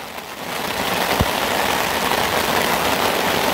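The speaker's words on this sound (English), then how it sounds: "Rain has come through." Heavy rain falls outdoors in the bush, a dense, constant hiss of drops striking surfaces that thickens after the first half second, with one low thump partway through.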